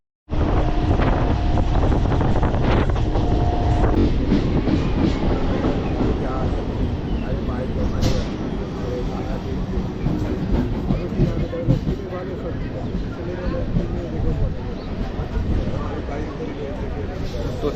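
A Bangaon local train on the Sealdah–Bangaon line runs at speed, giving a loud continuous rumble with wheel clatter and heavy wind buffeting, while a voice talks over it.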